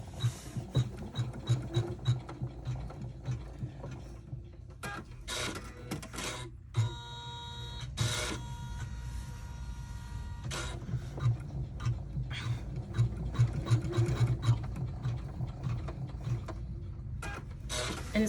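An embroidery machine stitches a mini wallet with silver thread, a steady close mechanical rattle of rapid needle strokes that runs continuously, with brief shifts in pace and clicks partway through.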